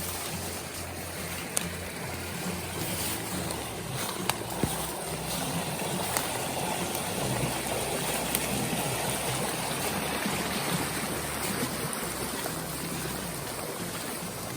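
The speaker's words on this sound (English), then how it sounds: "Little stream is flowing big time this morning." A small stream runs high on a rainy morning after the first snow, giving a steady, full rushing and burbling of water throughout at moderate loudness.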